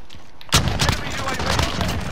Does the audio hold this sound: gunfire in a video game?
yes